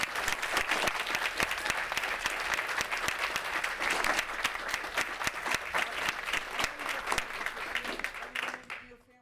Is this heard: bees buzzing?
no